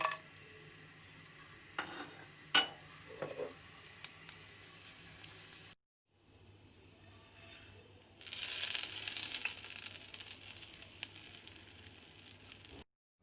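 Cumin seeds and black peppercorns go into hot oil in a pan. A few sharp clinks and taps come first, then a pause, then a broad, steady sizzle rises and holds close by, with no voices.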